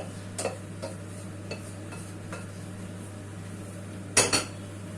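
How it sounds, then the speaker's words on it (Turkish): Bulgur and spinach stirred in a pan, with soft scattered clinks of a spoon against the metal and a sharper double clatter near the end, over a steady low hum. "İçinde güzelce birbirine karıştırıyorum arkadaşlar"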